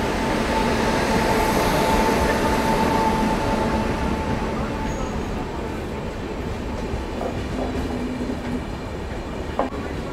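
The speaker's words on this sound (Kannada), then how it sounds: "ಚೆನ್ನೈಯಿಂದ ಮೈಸೂರಿಗೆ ಹೋಗುವ ಮೈಸೂರು ಎಕ್ಸ್ಪ್ರೆಸ್ ಅರೈವ್ ಆಗ್ತಿದೆ" The Mysore Express from Chennai pulls into platform 4 at a station, a steady broad rumble of rolling railcars with faint clicks and brief squeals from the wheels, heard continuously at moderate distance.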